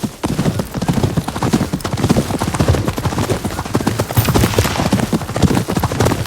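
Horse hooves clip-clop in the video game Ghost of Yotei, a loud steady rhythm of close, crisp hoofbeats continuing throughout.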